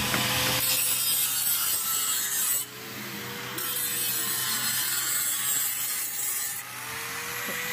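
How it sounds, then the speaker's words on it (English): An electric sander runs steadily, giving a continuous, close, rough abrasive whir with a brief dip partway through and no talking. "I see you got the sander."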